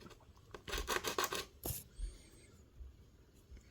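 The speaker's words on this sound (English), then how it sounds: "the only sharp spot is this top edge, so I'm just going to do some light sanding right here." Light hand sanding of the sharp edge of a small plastic cover for a YubiKey Nano, a quick series of soft rasping strokes, then a sharper scrape and scattered quiet rubs, close and faint with no speech.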